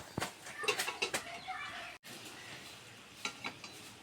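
Onion fritters made with betel leaves sizzle and crackle in hot oil, a steady close hiss with scattered sharp pops and no voices.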